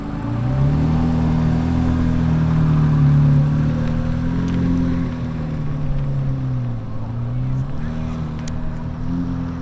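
A 2023 Corvette C8 Z06 roars with a loud, deep, steady engine drone whose pitch wavers slightly, sustained for the whole stretch with no talking.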